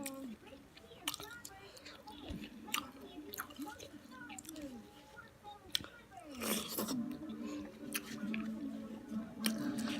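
Close, wet chewing and squishing of a seafood boil with king crab, with smacking bites and soft crunches scattered through, while a person talks quietly between mouthfuls.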